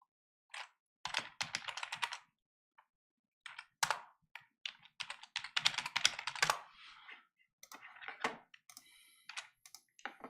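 A password is typed on a computer keyboard in quick close clicking bursts, with irregular pauses between runs of keystrokes and no talk.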